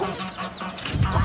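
Chickens cluck and squawk in a farm coop holding Burt hens, ispenç roosters, mavici fowl and young turkeys, with several overlapping near calls rising louder toward the end.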